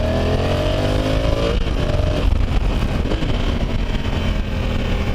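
A 2020 Honda Africa Twin motorcycle engine revs loudly and steadily through its mid-range while riding, with wind and road roar around it and no talk.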